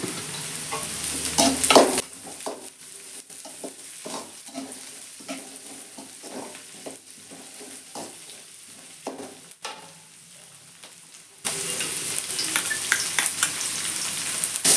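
Capsicum and cabbage stir-fry for paneer fried rice, a spatula tossing and scraping in rhythmic strokes over a soft sizzle, the frying growing louder and brighter near the end.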